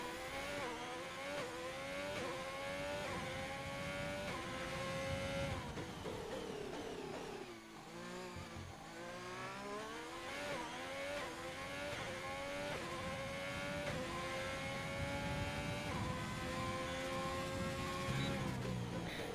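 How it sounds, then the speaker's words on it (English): An Alfa Romeo race car in a racing video game screams through a flying lap at Bahrain. The engine whine is loud and continuous, rising through the gears, dipping briefly mid-lap, then climbing again. "Sid Ozzy is, I believe, the first one out on a flying lap here in the Alfa Romeo"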